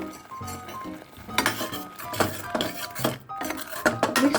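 A ground mixture with salt being stirred in a metal pan, the spoon scraping and clinking against the sides in irregular strokes, close and fairly loud, with a faint sizzle underneath.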